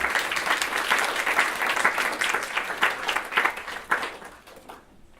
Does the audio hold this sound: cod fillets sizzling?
no